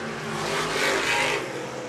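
A race car at the Dean Smith Memorial pushes hard and deep into turn 3, a loud, steady engine roar close by that swells in the middle, with no talking over it.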